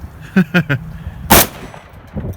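A single sharp H&K gunshot cracks loudly at an outdoor range, preceded by three brief hollow knocks and followed by quieter background noise.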